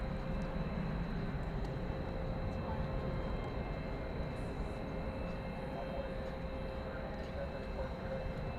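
An Airbus A319 jet departing at night at DFW Airport, a steady, broad engine roar heard from a distance, continuous and even throughout, with faint background noise.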